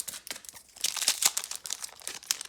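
A Pokémon Sword & Shield Vivid Voltage booster pack is torn open by hand, giving a close, irregular burst of crinkling and ripping foil wrapper over about two seconds, with no talking.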